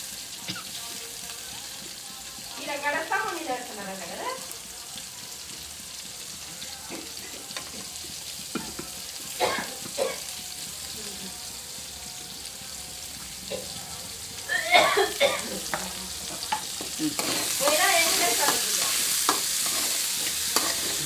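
Onions frying in a pan make a steady sizzle broken by intermittent stirring scrapes, with a voice speaking briefly several times over it and the frying growing louder near the end.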